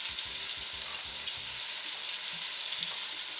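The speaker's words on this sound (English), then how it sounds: "I add my vegetables to the pot." Vegetables hit a hot pot after beef has been seared in it, setting off a dense, steady sizzle and frying hiss. Light scraping stir noises sound near the start.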